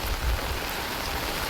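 Heavy rain falling steadily across a forest, a dense continuous hiss with low rumbling underneath, unbroken and fairly loud with no voices.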